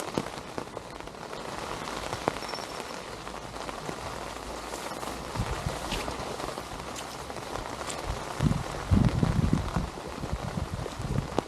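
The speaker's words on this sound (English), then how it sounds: "The rain's getting harder." Steady rain patters on a surface nearby at a lakeside while feeder fishing, dense and continuous, growing a little heavier and louder toward the end.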